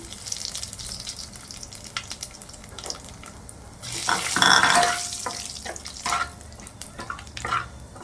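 Panch phoron spices fry in hot oil while making a Bengali tok dal with prawns, giving a steady crackling sizzle that swells louder around the middle, with occasional stirring clatter and no talk.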